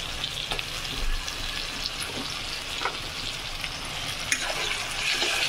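Ginger garlic paste sizzles steadily in hot oil in a pan for chana masala, a continuous crackling hiss with occasional stirring scrapes, no voices.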